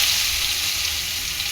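Sliced onions hit hot oil with panch phoron in an iron wok, giving a loud, steady hiss and crackle of sizzling that carries on evenly for a moment with no talk.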